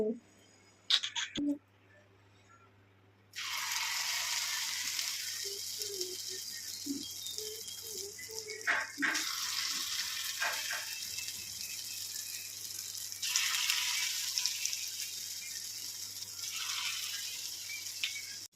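Corn pakoras frying in hot oil, a steady broadband sizzle that starts abruptly after a few quiet seconds of clinks and swells again later, close and continuous.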